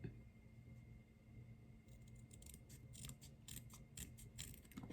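Scissors cut through paper with a run of soft, rapid snips and crunches, fairly close and quiet over faint background hum.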